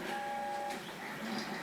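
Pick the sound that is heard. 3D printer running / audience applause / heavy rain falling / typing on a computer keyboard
3D printer running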